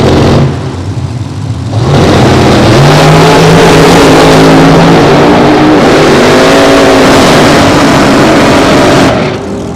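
A 540-cubic-inch centrifugally supercharged Scoggin Dickey drag racing car at a Las Vegas drag strip, roaring very loudly up close as the engine climbs in pitch through a hard pass, then fading at the end.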